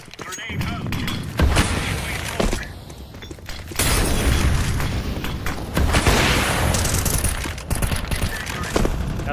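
Grenade and incendiary blasts in a shooter video game: loud booming explosions and crackling bursts with gunfire spread across the stretch, a quieter gap between heavy roaring sections, with players talking over it.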